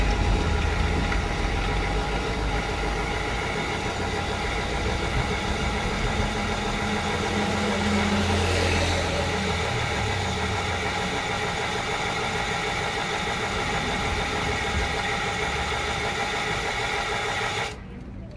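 A pressure-system pump motor runs steadily throughout, a continuous droning hum at close range, building as it works up to 40 psi and cutting off abruptly just before the end.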